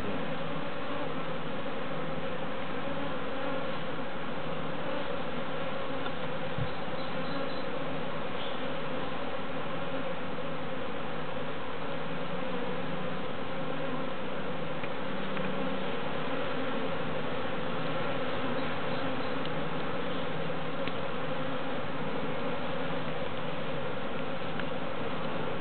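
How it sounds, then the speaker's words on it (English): A swarm of bees is being moved into hive boxes, and their dense, steady buzzing drones on without a break, close and even in loudness, with no talk. "The bees are very active."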